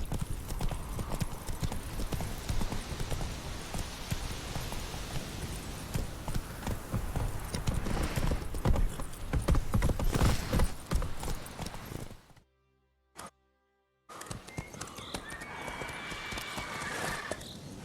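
Hooves of the horse Roach galloping in The Witcher 3, a steady loud clip-clop with whinnies and game sounds, cutting out briefly near the end before resuming.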